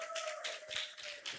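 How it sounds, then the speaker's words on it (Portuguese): Congregation clapping hands in applause at a church service, a dense, steady patter of many hands, moderately loud and sustained throughout, with a faint tone running underneath. "Você pode dar uma salva de palmas para esse povo abençoado e ungido?"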